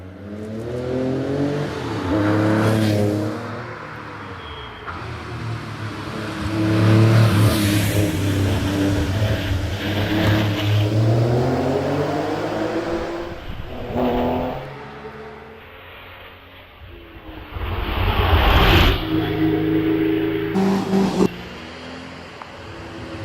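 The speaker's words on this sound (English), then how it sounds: "followed by Andrew Norris, as two Porsches come to each other" Porsche race cars climb the Doune hillclimb in Scotland during a British Championship round, their engines revving hard and rising in pitch through repeated gear changes, with loud near passes and fading distant engine drone between.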